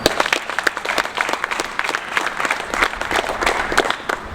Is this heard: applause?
yes